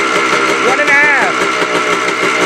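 A Yamaha ATV engine idles steadily during carburetor tuning, a close, even mechanical hum with a brief whining pitch shift, while a person talks over it.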